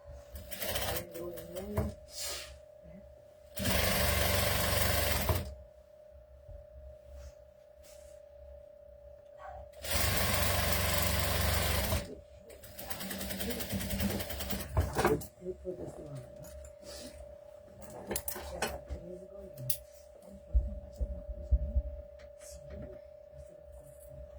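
A sewing machine stitches doll clothes in two loud bursts of steady whirring, each a couple of seconds long, with quieter handling sounds and intermittent talking between and after them.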